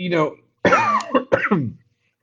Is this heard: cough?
yes